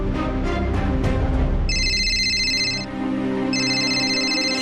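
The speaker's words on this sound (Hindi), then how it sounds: "मैं अभी फोन करती हूँ दीदी को।" During an outgoing phone call, a ringback tone chimes in two bright, steady pulses over a dramatic TV-serial music score that plays the whole time.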